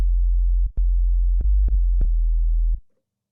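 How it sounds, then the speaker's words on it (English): Deep 808-style kick drum tone built in a Serum synthesizer, a very low sustained sine bass with sharp clicky attacks as the note retriggers several times, then fading out; no voices. "Nice little 808 sound there."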